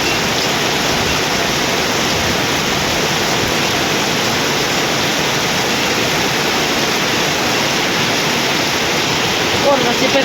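Heavy rain pouring down outdoors, a dense, loud and unbroken roar of wide-band hiss that holds steady the whole time with no talking.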